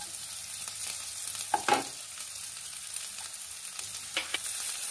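Chopped garlic frying in a pan for a quick mixed vegetable soup, a steady broadband sizzle with a few louder bursts and scrapes as it is stirred, close and continuous with no voices.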